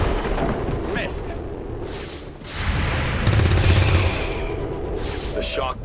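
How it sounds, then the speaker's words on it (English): A large explosion in a city during a video game lets out a loud, rumbling broadband blast that swells and lingers for several seconds, with voices talking over it. "The shockwave of that explosion reverberated throughout most of the city."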